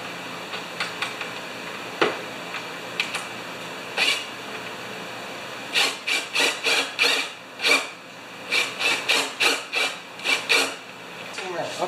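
A socket wrench ratchets as bolts on the chute of a Honda HS720 snow thrower are tightened, first in sparse single clicks, then in a fast rhythmic run of close, crisp rasping strokes.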